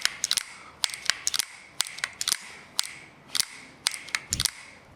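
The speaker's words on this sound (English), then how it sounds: "The only sound you can hear is the hammer before you can hear all the internals here." Pistol hammer and internal parts cycling after Slide Glide lubrication, a series of sharp metallic clicks in quick clusters of two or three, repeated steadily at close range.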